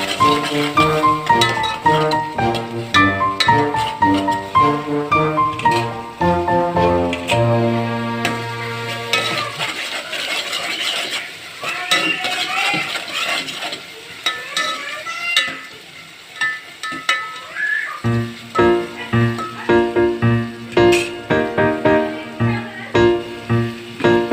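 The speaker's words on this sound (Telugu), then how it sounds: "పచ్చిమిర్చి కారం కొంచెం లైట్గా వేగింది" Green chilli paste frying lightly in a pan, a steady sizzle and occasional stirring running beneath continuous loud background music for the whole stretch.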